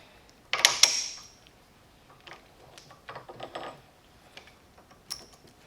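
A rebuilt Nissan FS5W71C five-speed transmission being shifted into first gear by hand: a sharp metallic clack, followed by softer clicks and mechanical clunks, close and isolated.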